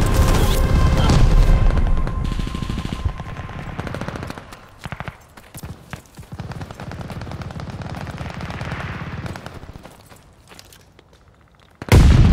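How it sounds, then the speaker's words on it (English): Bombing run in Call of Duty: Vanguard, heavy explosions and crashing blasts mixed with rapid gunfire, loud at first, then a rumbling stretch of scattered impacts before a final sudden burst. "Allies called a bombing run"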